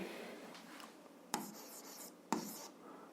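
A pen scratches on paper while writing out algebra, with soft, close scribbling strokes broken by three sharper taps as the pen lands, with no speech.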